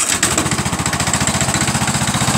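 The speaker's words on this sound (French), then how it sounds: "je tourne, comme ça vous voyez un peu ce qu'un démarreur fait pour démarrer votre moteur" A starter cranks the engine of a ride-on lawn tractor that has sat unused for two years, a loud, steady, rapid chugging rhythm that runs throughout with no voices.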